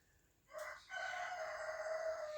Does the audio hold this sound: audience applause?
no